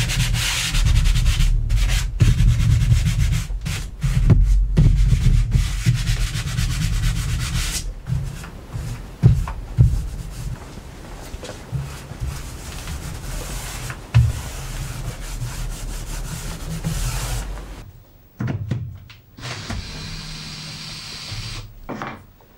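Dried filler on a wooden picket fence is rubbed down by hand, a close, continuous rasping scrape with uneven strokes and brief pauses, steady and loud throughout with no talking.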